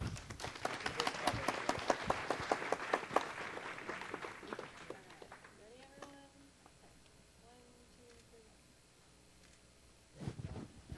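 City council meeting applause for Ruth Fife: a burst of scattered hand clapping for about four seconds, then it thins out into quiet room noise with faint voices, and a short final flurry of claps near the end.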